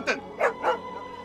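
A dog gives three quick, close yelping barks in a comedy scene from an Egyptian film.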